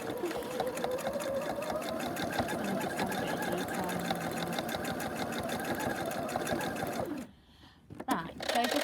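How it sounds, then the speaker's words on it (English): A domestic sewing machine zigzag stitching calico onto card, a fast steady mechanical whirr running continuously for about seven seconds before stopping, followed by a few brief handling clicks. "put your normal sewing machine foot back in and zigzag around the edge of the card to sew it onto the card"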